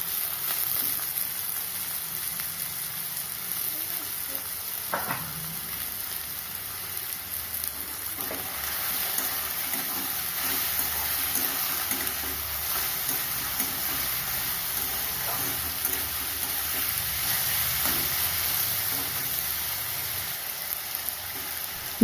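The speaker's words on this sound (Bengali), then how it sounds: "আলুগুলোকে কিছুটা ভেজে নেব" Chopped potatoes fry in a wok for a bottle gourd peel fry, a continuous even hiss of bubbling oil with a few faint knocks, close and steady, no speech.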